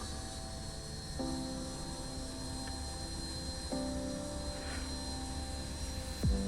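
Antonov AN-225 engines in Microsoft Flight Simulator 2024 drone steadily at low volume, with a couple of rising tonal whines, a brief soft thud and a falling sweep near the end.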